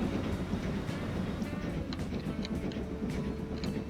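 Trains run steadily in the Transport Fever 2 management game, a continuous low rumble with faint clicking rail noise throughout, moderately quiet and without talk.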